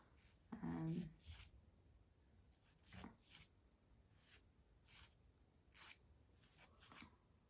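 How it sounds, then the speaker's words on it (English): Fingernails being filed with a nail file in a quiet room, giving soft, close rasping strokes in short separate bursts, each lasting about a second. "I hope you can hear these filing noises."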